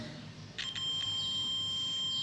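A digital multimeter in continuity-test mode gives a steady high-pitched beep across a resistor's leads. The tone starts partway through and holds continuously to the end over a faint background hum.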